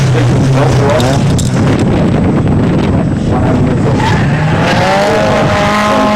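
A race car, car number 8, runs out on a wet track, its loud engine and tire noise sustained throughout with strong wind buffeting on the microphone.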